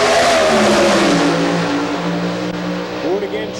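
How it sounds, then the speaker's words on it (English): Pro Stock drag racing car launching and spinning its tires during qualifying at the 2000 Keystone Nationals, Maple Grove Raceway: a loud, close engine roar with rising revs, heard with an announcer talking over it. "it's spinning the tires"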